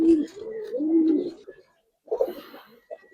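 A Giribaz pigeon coos in low, throaty rolls, two soft bursts separated by a short pause, close and alone.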